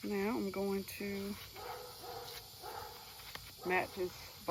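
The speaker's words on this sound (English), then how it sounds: "Matt is barking because he thinks he owns the cul-de-sac" A pet dog named Matt barks in a suburban cul-de-sac, several sharp barks in short clusters at moderate distance, with quieter background noise between them.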